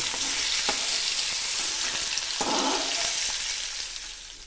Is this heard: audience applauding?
no